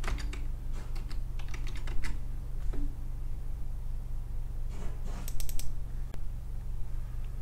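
Keys clatter on a computer keyboard in short irregular bursts of typing and clicks over a low steady hum, near and moderately quiet, with no talking.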